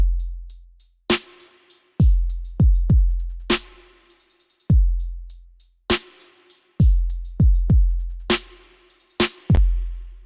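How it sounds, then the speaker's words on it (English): A sparse drum pattern with deep booming kicks and crisp hi-hat ticks layered in quick rolling clusters, repeating in a steady loop. "So I actually like to layer these hi-hats with the other hi-hats in the regular drum pattern."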